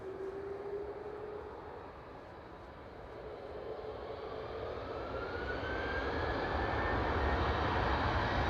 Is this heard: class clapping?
no